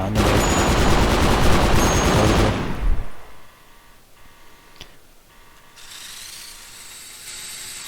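A combat drone gun turret in a video game, heard first as a loud dense rattling mechanical ratchet for about three seconds, then fading to quiet clicks and a low whirring hum.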